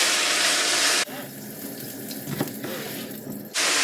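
A kitchen tap runs steadily as a cut leek is rinsed under it, a broad hiss that dips and softens partway through as the leaves interrupt the stream, then returns to full flow.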